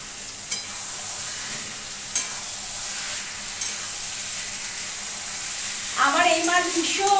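Fish slide into hot oil in a home kitchen pan, a steady loud sizzle and hiss with a few sharp pops, then a burst of bubbling spatter as they hit.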